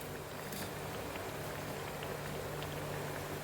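Raw-potato vadas deep-frying in hot oil give a dense, even bubbling sizzle that holds steady and close throughout.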